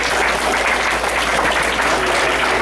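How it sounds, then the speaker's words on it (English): Onlookers at a martial arts belt testing day applaud the trophy winners with a loud, full, steady round of clapping that fills the room without a break. "Give them a big round of applause."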